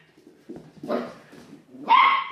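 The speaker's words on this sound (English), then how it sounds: "This is the first time I've heard him bark" A young puppy named Flash gives a couple of short barks and yips close by, with a faint bark early and a louder, higher bark near the end.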